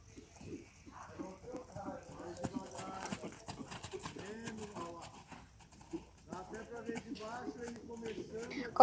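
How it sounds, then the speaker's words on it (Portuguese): A horse trots at a riding school during dressage training, its hooves clip-clopping in a steady, close rhythm beneath a talking voice. "Ele pode simplesmente trotar tranquilamente e esperar o próximo comando."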